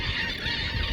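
Geese honk loudly and repeatedly from shallow water, their nasal calls overlapping in a steady, close chorus.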